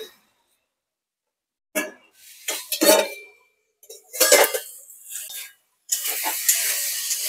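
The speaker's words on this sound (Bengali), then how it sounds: "খুব ভালো করে একটু নেড়ে চেড়ে মশলার সাথে কচুর ফুলটাকে কষিয়ে নেব।" Taro flowers cooked down with spices and red chilli powder in a pan are stirred in separate bursts, with scraping and light clinks of utensil on pan broken by silent pauses.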